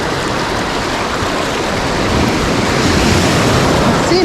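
Ocean surf off the Big Island of Hawaii rushes in a loud, steady wash that builds slightly midway, mixed with wind buffeting the microphone and no talking.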